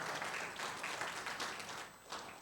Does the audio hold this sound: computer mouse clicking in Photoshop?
no